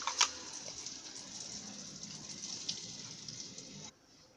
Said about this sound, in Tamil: ஒரு 1/2 டம்ளர் அளவுக்கு தண்ணி இதில் சேர்த்துக்குங்க.